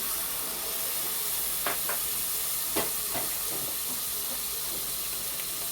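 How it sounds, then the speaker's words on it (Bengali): Water is added to spices frying with turmeric and salt in a pan, raising a loud, steady hiss and sizzle with a few sharp crackles popping through. "আমি এতে সামান্য একটু জল দিয়ে দিচ্ছি, নাহলে মশলাটা পুড়ে যাবে।"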